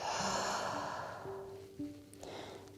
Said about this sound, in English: we take a couple deep breaths in